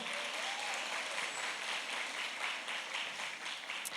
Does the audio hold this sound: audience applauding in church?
yes